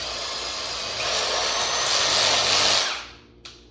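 A power drill bores rivet holes through a ladder's metal, a steady high-pitched whine that rises in intensity midway, then winds down and stops near the end with a brief click.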